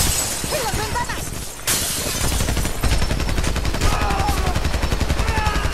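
Gunfire in the video game Homefront: dense, rapid automatic bursts with cracks and shattering impacts, loud and nearly continuous, with a voice speaking Spanish over the battle.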